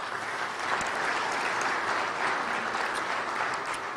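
Steady, dense applause from an audience at a tribute event, clapping continuously and evenly for the whole stretch at moderate distance, with no voices over it.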